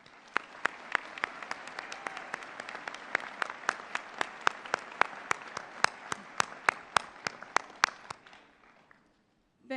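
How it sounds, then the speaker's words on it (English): Sparse, distinct claps ring out at a college commencement ceremony, a few hands clapping in a loose steady rhythm of sharp individual slaps that stop abruptly, leaving near silence at the end. "Let's give them a round of applause"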